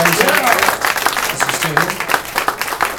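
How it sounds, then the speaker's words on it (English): Live-music audience clapping for the guitarist after a set, a dense steady patter of many hands with some voices mixed in, fairly loud throughout. "We're applauding in, in absentia."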